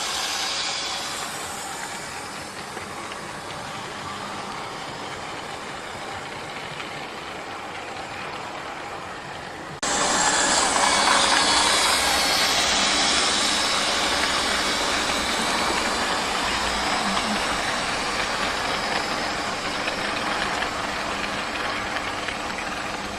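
A Great Western Railway steam locomotive thunders past at a railway festival, a loud steady roar of rumble and steam hiss that jumps louder midway and stays strong, no voices.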